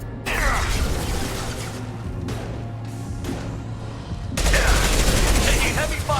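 Heavy sustained gunfire in the Mass Effect 2 video game, dense continuous shooting that dips briefly in the middle then returns loud and thick.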